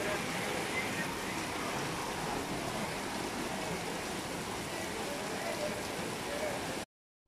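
Rain falls on a street with shop stalls, a dense, steady hiss of drops and patter heard close and even, cutting off abruptly near the end.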